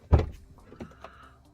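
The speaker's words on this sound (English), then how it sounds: "I'm going to open the door." The door of a 2020 Toyota RAV4 opens with a sharp close mechanical clunk followed by a few faint clicks and rattles.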